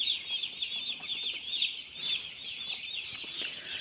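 Young two-day-old birds on a poultry farm keep up a dense, continuous chorus of high, thin peeps and chirps, overlapping without pause at moderate distance.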